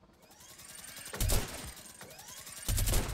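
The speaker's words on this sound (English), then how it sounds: "I killed him with a minigun" Minigun fire in Fortnite, heard as two sustained, loud bursts of rapid automatic shots, each lasting about a second, over a low game background.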